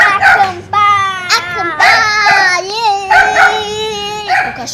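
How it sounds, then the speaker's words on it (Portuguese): A dog at a camping spot gives repeated yelping, whining cries close by, high and tonal, in short bursts with a child-like wail quality. "O cachorro tá latindo ali, gente"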